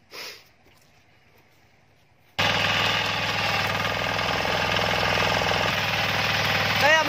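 A Sakura 188 diesel tiller forms soil beds, starting up abruptly after a brief quiet and then running loud, steady and close. Its engine throbs continuously with harsh mechanical clatter.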